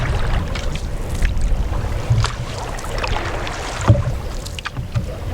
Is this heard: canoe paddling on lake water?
yes